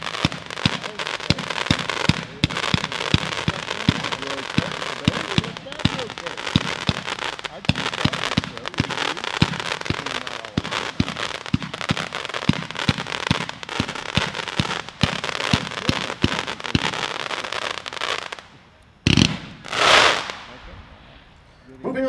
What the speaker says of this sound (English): Next item up, number 5, is a 49-shot, 500-gram cake